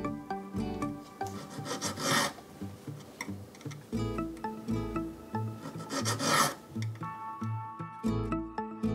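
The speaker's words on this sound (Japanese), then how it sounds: "さらに葉の縁にヤスリがけを行う。" A metal leaf for an ornamental hairpin is filed along its edges by hand, steady rasping strokes repeating in an uneven rhythm, close and clear with faint tapping between passes.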